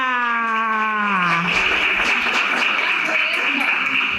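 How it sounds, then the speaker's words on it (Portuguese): Audience applause for an elderly woman, Dona Maria, at a healthy-ageing health-week talk, a dense steady wash of clapping that follows a brief falling electronic tone. "uma salva de palmas para a Dona Maria"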